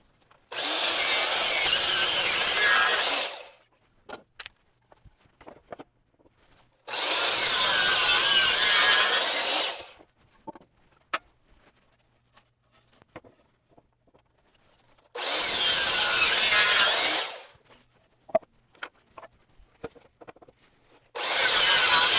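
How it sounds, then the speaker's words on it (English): A power saw cutting 45-degree miters on the ends of wooden boards for tire ramps, three loud bursts of about three seconds each, separated by quiet pauses with faint knocks and handling of wood. "I'm going to put a 45-degree miter on the end of each board, just to make it a bit easier to drive on and off the ramp."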